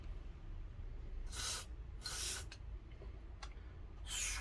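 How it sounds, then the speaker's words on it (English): Short hissing bursts of non-flammable contact cleaner spray on the variable resistors of a 1973 Kenwood KR-2300 receiver, three longer puffs and a couple of quick ones, close up over a low steady hum. "So always non-flammable contact spray."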